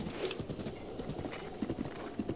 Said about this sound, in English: I like this blue horse though.